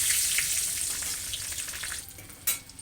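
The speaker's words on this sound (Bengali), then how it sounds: "এদিকে ইলিশ ভাজা মাছ ভাজা তেলে রসুন দিয়ে দিলাম" Garlic frying in the oil left from frying hilsa fish, a close steady sizzle with light stirring scrapes and one sharp clatter near the end, with no talking.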